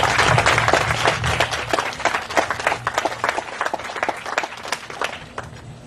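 Scattered clapping from an audience at an ancestor-honoring ceremony on St. Croix, dense at first and thinning toward the end, with a low hum underneath.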